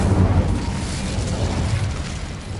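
An Incendio fire spell cast in a video game produces a dense, continuous roaring rush of flame with a heavy low rumble, loud and sustained throughout.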